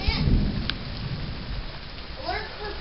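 Heavy rain pours during a severe summer thunderstorm in New Brunswick, a steady loud broadband hiss with low rumbling thunder early on, close to the microphone; a voice is faintly present near the end.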